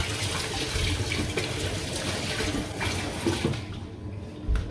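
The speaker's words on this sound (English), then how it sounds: "Give my hands a quick wash." Tap water runs steadily into a kitchen sink while hands are washed under it during apple cake baking, a continuous close splashing hiss with no talk.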